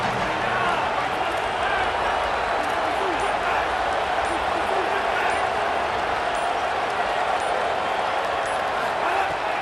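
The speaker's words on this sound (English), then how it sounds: "this crowd is ready" A steady stadium crowd roar from the EA Sports College Football video game during a big third down, a constant dense wash of cheering that stays loud throughout beneath an announcer's commentary.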